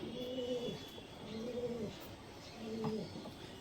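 Pigeon cooing in soft repeated phrases while held in a hand, a black-eyed Kalpora Kaldoma male, three low throaty coos spaced about a second apart, close and clear.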